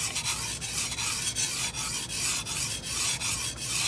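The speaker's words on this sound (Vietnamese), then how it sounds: "Bây giờ mài mặt trái." A bone-chopping knife is stroked across an ordinary whetstone in a steady rhythm of rasping scrapes, about nine even passes, close and clear with no talking.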